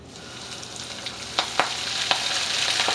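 A panko-crusted poached egg deep fries in a pot of hot oil, giving a steady close sizzle with a few sharp pops and crackles. No one speaks.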